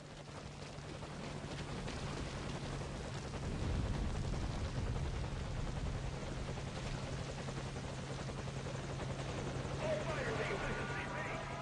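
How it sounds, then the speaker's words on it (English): A helicopter in the video game Metal Gear Solid V: Ground Zeroes drones with a steady, loud rotor rumble that never lets up, mixed with game noise and occasional sharper effects, with a person talking over it. "the enemy has spotted our helicopter, so let's defeat them before we get shot down"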